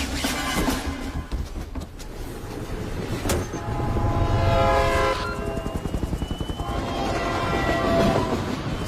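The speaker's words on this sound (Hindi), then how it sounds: "सर, ट्रेन टनल के अंदर एंटर हो चुकी है।" A passenger train enters a tunnel, giving a loud, rumbling roar with rhythmic clickety-clack of wheels over rail joints and a brief high screech, all sustained and close throughout.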